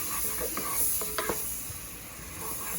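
Minced garlic and soft onions frying in bacon grease, a low steady sizzle with a few scattered scrapes and taps of the spoon as they are stirred.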